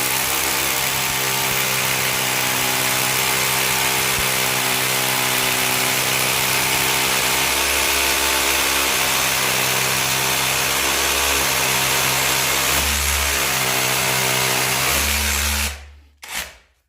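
A Parkside Performance PKHAP 20-Li cordless hammer drill runs loud and up close, a continuous dense hammering whir with small changes in load, then cuts out at the end.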